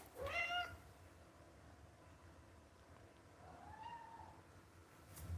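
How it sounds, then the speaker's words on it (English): A house cat gives two short meows, one at the start and a softer one later, faint and a little distant over a low background hum. "Oh look, here's my cat."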